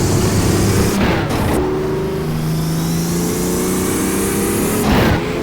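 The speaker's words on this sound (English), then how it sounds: "And you get the blow-off valves on the turbos, the wastegates." BMW M1 racing car in the rFactor sim with turbocharged engine and blow-off valves on the turbos, a steady loud engine drone with two brief broadband bursts that could be valve releases or shifts, no speech.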